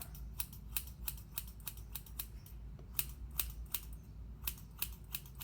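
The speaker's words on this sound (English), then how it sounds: "Super sharp scissors, okay?" Close, crisp snips of super-sharp scissors cutting damp bangs, a dozen or more in a steady irregular rhythm over quiet background hum, with no talking.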